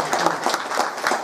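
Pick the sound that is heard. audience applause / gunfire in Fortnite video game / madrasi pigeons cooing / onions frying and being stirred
audience applause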